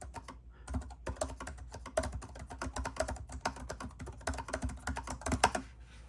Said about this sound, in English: Can type really fast